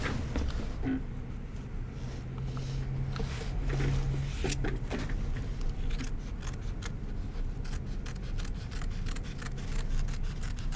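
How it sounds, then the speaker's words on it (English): Scissors snipping through a fabric banner during a sewing project, quiet irregular cuts over a steady room background hum, no speech. "So I'm going to go ahead and trim the banner."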